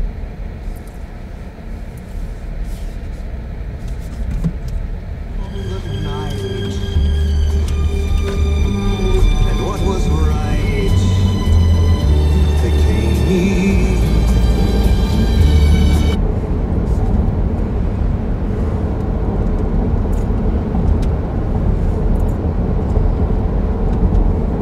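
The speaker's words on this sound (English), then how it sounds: "we are currently going downhill, and I am in regen range here" A Chevy Bolt electric car rolls downhill with regenerative braking, and a thin, rising electric motor whine sits over steady road and cabin rumble for about ten seconds before fading back to plain road noise.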